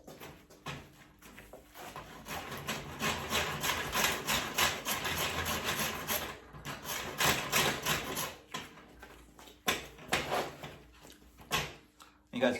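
Rough-cut wooden Irish stick being shaped with a rasp: steady, scratchy strokes repeating close by for the whole stretch, with short pauses between bursts.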